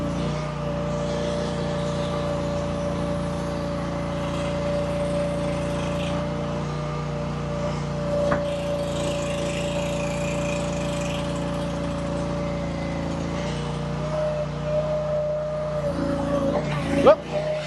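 A wheeled 450 skid steer runs steadily with a constant engine drone, driving and turning in tight circles, with a brief louder bump near the end.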